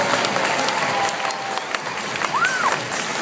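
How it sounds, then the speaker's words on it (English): Audience applause at a dolphin show, a broad steady wash of many hands clapping throughout, with a short rising-falling whistle-like tone near the end. "Please give all of the athletes and their coaches a huge round of applause."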